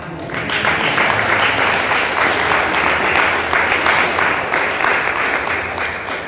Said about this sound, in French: Et avec vous, nous allons applaudir très très fort Jésus-Christ de Nazareth.